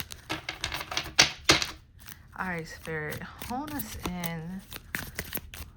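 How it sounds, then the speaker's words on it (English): A deck of cards being shuffled, with quick riffling and flicking bursts close by, followed by a person speaking over quieter card handling. "I feel the need to shuffle these one more time"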